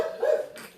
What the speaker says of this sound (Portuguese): O Boquinha, prende os cachorros ali, senão eles vão ficar atrapalhando